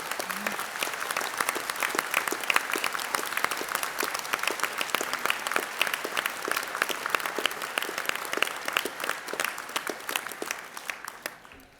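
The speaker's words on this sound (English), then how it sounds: "let's give all your supporters a fantastic round of applause" Graduation ceremony audience applauds at a university degree ceremony in Harrogate, many hands clapping in a sustained crackle heard from a distance, holding steady for about ten seconds before tapering off.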